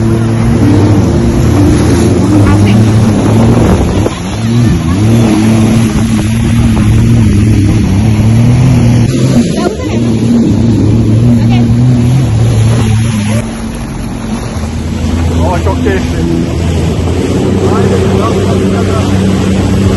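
A jet ski engine running on the water at Port Dickson, a loud, close, steady whine that rises and falls in pitch, with people talking over it.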